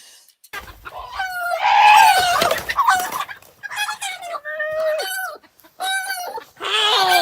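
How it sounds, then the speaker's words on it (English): Chickens squawk and cluck in frantic, repeated bursts as a dog attacks them in a backyard chicken coop in West Virginia, loud and close with brief pauses between the cries. "The dog's fucking getting the chicken."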